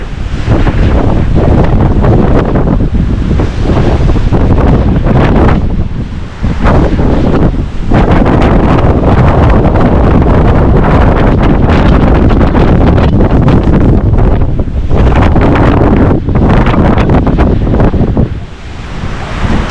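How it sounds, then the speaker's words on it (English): Strong, loud wind on a mountain trail in Linville Gorge buffets the microphone continuously, with roaring gusts and brief lulls, and no talking. "It's a little windy."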